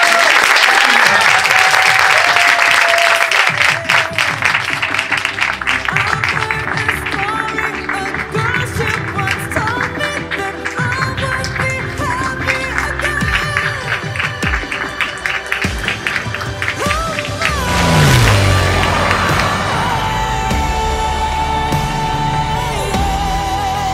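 An audience at a live song performance in Nantes applauds loudly and steadily for the whole stretch, with cheering voices and music mixed through the dense clapping.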